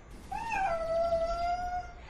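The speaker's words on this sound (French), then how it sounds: "c'est quoi ça? Un chat?" A cat in the video game GTA gives one clear, drawn-out meow, rising then slowly falling, close and alone.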